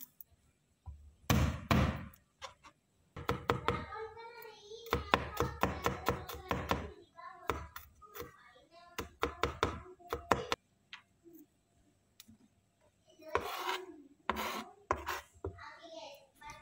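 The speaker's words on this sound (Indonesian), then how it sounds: "Siapkan bawang putih, lalu geprek dan cincang halus" Garlic is crushed and then finely chopped with a knife on a board, giving bursts of rapid, crisp close knocks separated by short pauses, fairly faint overall.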